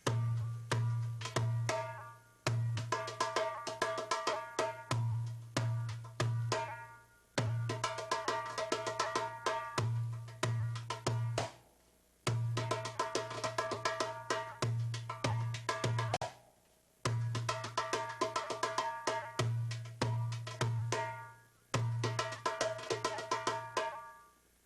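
A darbuka plays a Masmudi Kabir rhythm variation that skips the 4th beat, with deep doums and crisp teks repeating in looping cycles for over twenty seconds, close and with no talk.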